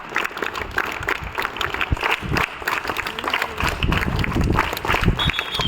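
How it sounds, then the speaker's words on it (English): Children at a school investiture ceremony clap continuously in a crowd, a dense rattling patter of many hands sustained throughout at moderate loudness, no one speaking over it. "Claps children, the clap should go on."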